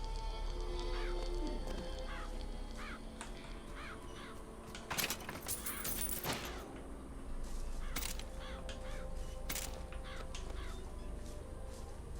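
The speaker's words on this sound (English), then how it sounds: "There's a bird right now. Making noises. Being loud." A bird in the video game Bioshock Infinite caws loudly and repeatedly in a crow-like rhythm, layered over a dense game soundscape with occasional clattering bursts.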